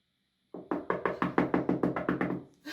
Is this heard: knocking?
yes